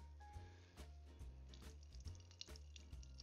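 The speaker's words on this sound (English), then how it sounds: "And you start getting the water out." Water is wrung out of grated courgette in a twisted, zipped plastic bag, giving a quiet, irregular trickle and patter with soft bag crinkles, close up and with no talk.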